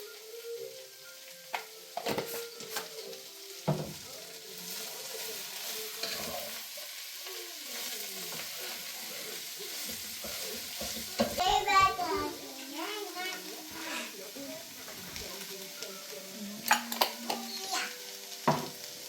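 Ingredients being sautéed and stirred in a pan for a weight-loss recipe, a quiet sizzle with scraping spoon strokes and clinks coming and going, under intermittent talk including a voice.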